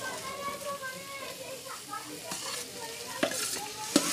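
Beans, potato, carrot and capsicum sautéed in a pan sizzle close up under repeated stirring scrapes, with a couple of sharper knocks near the end and a faint voice murmuring underneath.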